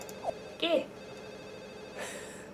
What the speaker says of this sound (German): Einfach auf, geh ans Telefon.